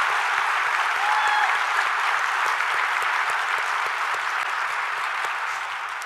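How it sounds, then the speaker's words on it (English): A keynote audience at the 2022 Airlift/Tanker convention gives sustained applause, a continuous crisp patter of many hands that holds steady for several seconds and then tapers slightly at the end. "Let's give our AE teams a round of applause."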